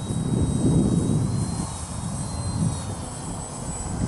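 Engine of an ultralight aircraft drones steadily while coming in to land in a crosswind, a continuous moderately loud propeller hum that swells slightly then eases, with wind rushing over it.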